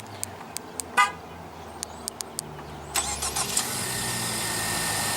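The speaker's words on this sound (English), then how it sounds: "Fairly easy to do the remote engine start. Just click on this button 2 times." Remote start of a 2016 Ford Fusion 2.0 L: a few sharp key-fob beeps and a brief horn chirp, then the engine cranks and settles into a steady idle heard from nearby.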